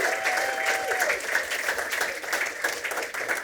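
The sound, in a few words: audience applause for panel guests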